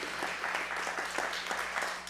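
An audience at a THRIVE21 fundraising event applauds with a moderate, steady patter of many hands, fairly even in level throughout and a little distant.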